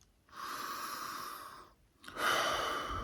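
A slow, steady exhale during a guided mindful breathing exercise: soft, airy breath sounds that fade briefly, then resume louder and close.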